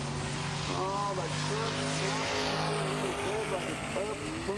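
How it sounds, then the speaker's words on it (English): Drag-racing truck, a 38 Dodge with a 442-inch Chrysler engine and P56 Magnum transmission, revving hard while spinning on the torque converter at a drag strip; a sustained engine roar with rising pitch sweeps beneath an announcer talking. "spinning on the converter pretty bad. Sounds like it's blowing through the converter"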